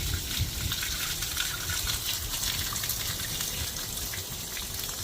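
Leftover fresh water drains from the freshwater tank valve of a 2024 Jayco 199MBS travel trailer, a steady, close rushing gush that holds even for about five seconds with no talking.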